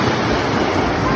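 Sea waves wash against an island beach in Cebu, a steady broadband rush with some wind noise on the microphone, brief and fairly loud.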